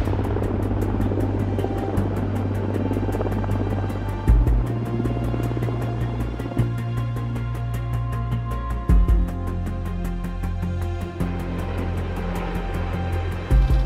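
A military helicopter drones with a steady low rotor thump and engine hum, close and continuous, its pitch shifting slightly a few times over the span.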